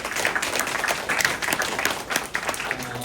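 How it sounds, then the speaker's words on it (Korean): A church congregation applauds newly baptized members at a Thanksgiving Sunday service, a steady wash of dense hand clapping filling the room for about three seconds without a break. "우리 다시 한번 박수로 환영해 주겠습니다."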